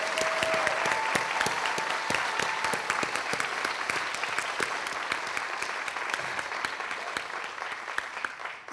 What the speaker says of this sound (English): why don't you give yourselves a big hand so they can hear the applause